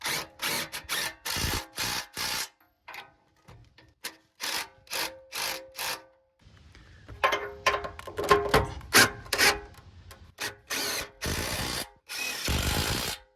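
A power tool drives bolts on a rear bumper in repeated short bursts of whirring and grinding, with brief pauses between them. It sounds close and fairly loud, with a longer rattling stretch in the middle.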